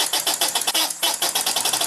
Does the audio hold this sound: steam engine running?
yes